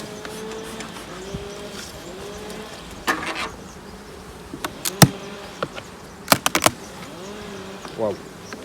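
Honeybees buzz around the entrance of a large hive during heavy robbing in early November, a close, wavering hum with individual bees passing near, over a faint background and a few sharp knocks and clicks.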